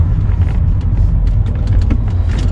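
A BMW E39 sedan accelerates with a loud, close engine rumble and low road drone, a dense steady roar from the cabin with scattered knocks and rattles over it.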